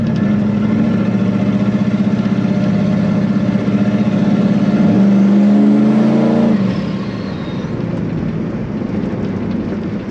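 A turbocharged small-block Chevy V8 idles loudly and steadily, its lumpy drone swelling into a brief rev before settling back to a slightly quieter idle, close to the listener with no talk.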